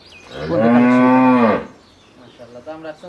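A dairy cow at a cattle market gives one long, loud, close moo lasting about a second, followed by quieter rustling and short low sounds.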